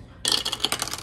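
Dice are rolled, giving a quick rattling clatter of several hard taps that tumble and settle over about a second, close and moderately loud with no talking.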